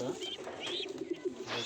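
Pigeons in a racing-pigeon loft coo softly in a short, close burst of low throaty calls, faint and brief.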